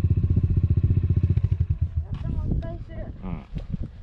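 A motorcycle engine idles with a steady pulsing throb over the first two seconds, then fades under close conversational talk.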